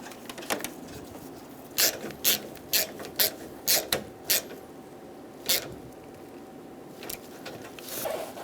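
A ratchet clicks in bursts while tightening the bolt on the AC condenser line of a 2010-2014 Subaru Outback, with a run of close, crisp ratcheting strokes mid-clip and a few scattered clicks before and after, no talking.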